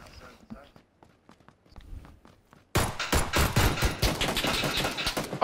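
Gunfire in the PUBG battle royale game: faint scattered shots and footsteps at first, then a sudden loud burst of rapid automatic fire that continues densely to the end, with players talking over it.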